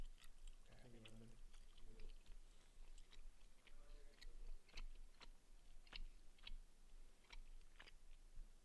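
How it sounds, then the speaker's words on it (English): Quiet chewing close to a microphone, soft crunchy bites and mouth clicks at an irregular pace over low background noise, with a brief faint voice early on. "What if they hear us chewing?"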